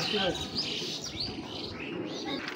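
Racing pigeons gathered close by, giving short chirps and soft coos in a dense, continuous chatter, with some faint background talk.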